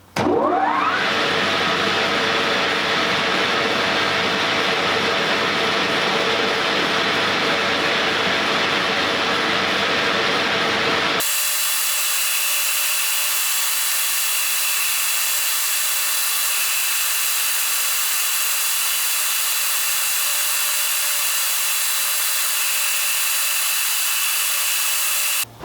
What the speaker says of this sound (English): I've got some 16mm round bar, and I'm just going to machine it down